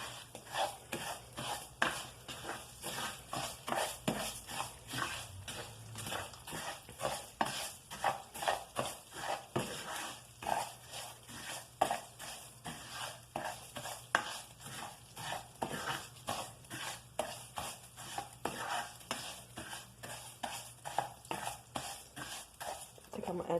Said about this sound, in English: I've got our rice and some oil, and we're gonna fry this up till the color changes